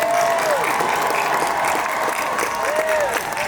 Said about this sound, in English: how about a round of applause for Mickey Mouse in the gang as well?